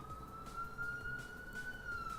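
A distant ambulance siren holds a faint, steady tone through the whole stretch, sitting low in the background with no talk over it.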